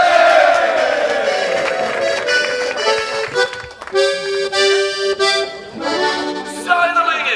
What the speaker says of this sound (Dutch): Een goed applaus voor Nick en Patrick met In het Zuiden.